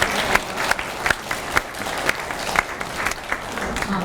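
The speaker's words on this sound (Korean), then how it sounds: "박수 한번." Applause from a room of pre-medical students at an organ donation education session, steady dense clapping with sharp individual claps standing out, lasting about four seconds.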